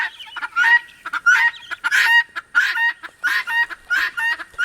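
A flock of guinea fowl calling together near a chicken house, harsh repeated cackling cries in rapid, overlapping bursts, loud and close with no talk.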